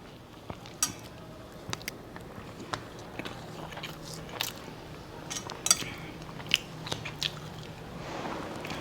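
Someone bites and chews a hard piece of Kothapalli coconut during a meal, close and quiet, with sharp crunchy bites scattered irregularly over steady chewing.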